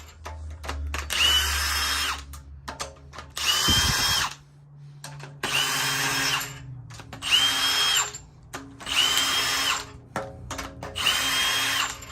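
A power tool, likely an impact gun, loosens head bolts on a Honda K24 engine in a run of about six loud, close mechanical bursts with short pauses between them and no talking.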